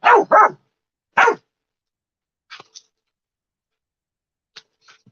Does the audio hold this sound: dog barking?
yes